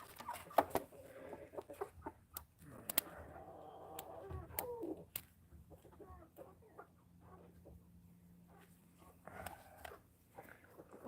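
Farm chickens, hens clucking and calling close by in scattered bursts, with sharper squawks and soft rustling between, fairly quiet overall and no speech.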